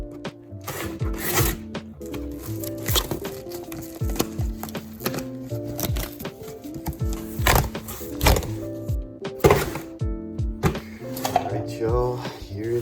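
Packing tape peeled off the box of a Mugen Seiki MBX8TE Eco RC car during an unboxing, heard as a series of close, scratchy rips and crackles over a steady tonal background hum.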